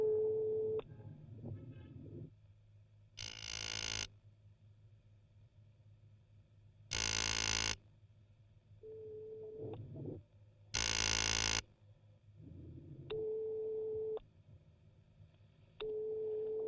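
Telephone busy signal in a French film, a steady low tone pulsing on and off in short repeated beeps, broken by several loud bursts of harsh noise.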